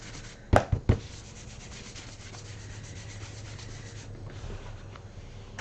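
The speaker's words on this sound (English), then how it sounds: "And rub my embossing buddy all over it." An embossing buddy powder tool is rubbed over paper in a craft session, giving a steady soft scraping hiss after a few sharp knocks at the start, with no talk.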